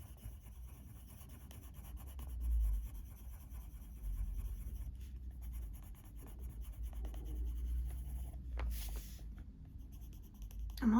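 A colouring pencil scratches across paper in steady, continuous strokes, close and fairly quiet, with short pauses between passes and no talking.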